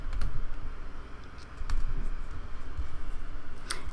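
Typing on a computer keyboard: scattered, uneven key clicks that come close and moderately loud over a low background rumble, with a few sharper taps standing out.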